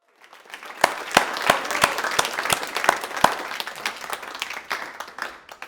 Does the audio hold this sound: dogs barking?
no